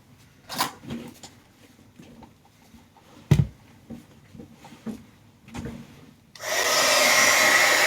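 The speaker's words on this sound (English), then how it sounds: "we're going to go ahead and get the heat gun" Heat gun switched on after a few scattered knocks and handling clunks, then a loud steady blowing roar that fills the last stretch.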